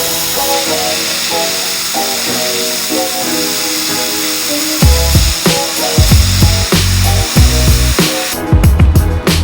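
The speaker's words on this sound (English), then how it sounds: "We're gonna do some sandblasting and get this inside of the quarter area panel prepped" Walnut-shell media blasting inside the quarter panel area of a 1965 Mustang: a steady, loud hiss that runs throughout, with heavy low thumps and clunks joining in over the second half.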